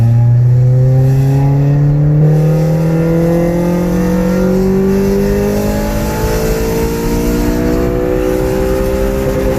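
A tuned car accelerates hard in third gear from 3000 RPM during a data-logging pull, its engine note loud and close, climbing steadily in pitch throughout without a break.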